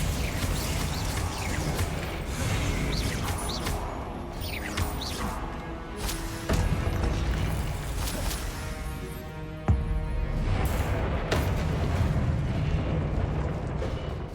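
Confringo and Glacius spell blasts in the Hogwarts Legacy game: a dense run of booming impacts and sharp cracks over rumbling combat noise, loud and close, with several distinct bursts spread across the stretch.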